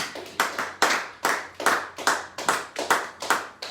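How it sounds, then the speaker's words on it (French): A church congregation applauding together, rhythmic unison clapping in regular bursts of about two claps a second, close and full, with no voices. "Nous pouvons acclamer pour cela."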